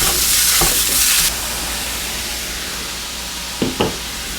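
Breakfast sausage browns in a hot pan with a loud, steady sizzle as a spatula breaks it into small pieces, giving a couple of brief scraping knocks against the pan.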